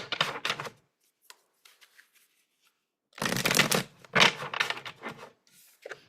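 Tarot cards are shuffled by hand in bursts of rapid riffling and flapping, two dense close-up runs separated by a pause with a few soft taps, no speech.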